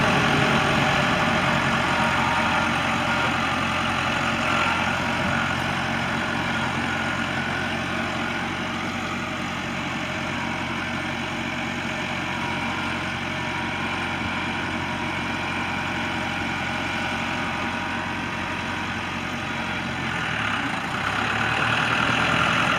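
A 1990 Case 585 tractor runs in reverse, its engine giving a constant, fairly loud mechanical drone that holds level for most of the time and dips briefly near the end, with no one speaking.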